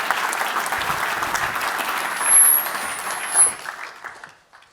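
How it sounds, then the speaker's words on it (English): Audience applause at a venture capital conference in Austria, a steady round of clapping from a seated crowd that swells briefly, then thins and fades to silence. "Please welcome her with a round of applause."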